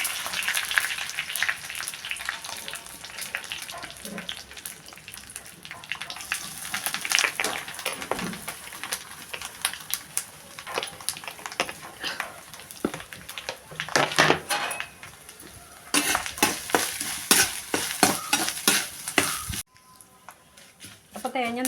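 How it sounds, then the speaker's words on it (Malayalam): Grated coconut roasting in a pan with lentils and curry leaves for erissery, stirred with repeated scraping and clinking of a utensil against the pan over a light sizzle, with a voice talking throughout. "ഇത്ര നാളികേരം കേട്ടോ നമ്മൾ വറക്കുന്നത്"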